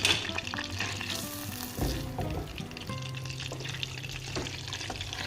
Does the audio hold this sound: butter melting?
yes